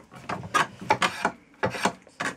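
A spokeshave shaves a wooden chair stretcher spindle for a Sussex chair, giving about eight short, crisp scraping strokes in an irregular rhythm, close and fairly loud, each a quick rasp with brief pauses between.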